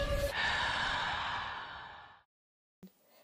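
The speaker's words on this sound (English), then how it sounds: "Another typical element we used was the sound of diegetic breathing at the end of our opening scene." A long, drawn-out breathy exhale sweeps down like a heavy sigh, fading into silence before a short sharp intake of breath.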